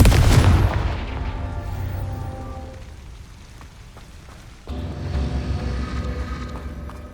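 Fiery spell blasts and booms in the Hogwarts Legacy video game, a loud burst at the start fading into rumbling crackle, then another heavy blast midway followed by sustained roaring fire.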